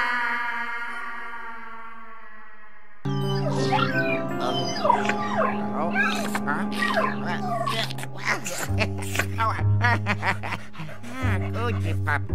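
A puppy whimpering and yipping in the Luigi's Mansion 3 video game, high-pitched whines and short yelps rising over a sustained musical drone with echoey ambience, preceded by a brief tonal passage.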